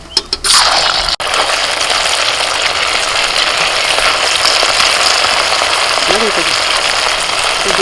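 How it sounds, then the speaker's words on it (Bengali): Donuts frying in hot oil give a loud, continuous bubbling sizzle, opening with a few sharp knocks before the steady hiss settles in alone. "তেলটা ঝরে ততক্ষণ আমি বাকিগুলো ছাড়ি সময় লাগছে অনেকটা ভাজি"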